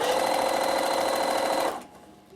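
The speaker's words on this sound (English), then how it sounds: "So I'm just re-stitching that down and joining back up to where I did stitch it correctly." A sewing machine re-stitches a wrapped fabric bag handle, a steady close mechanical whirr that runs continuously, then stops abruptly.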